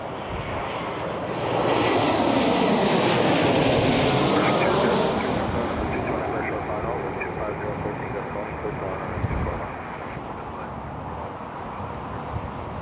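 Airliner at Toronto Pearson airport passing close by, a loud jet engine roar that swells after the start, peaks, then slowly fades into a lingering rumble.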